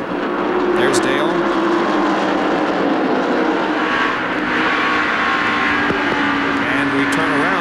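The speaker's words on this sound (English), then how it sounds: "now we're inside Dale Jarrett's car, the Hardee's Pontiac, as he is right behind the Elliott car" A Pontiac stock car's engine roars steadily from inside the cockpit during a 1989 NASCAR Winston Cup race at the Transouth 500, loud and continuous with a broadcaster's voice running over it.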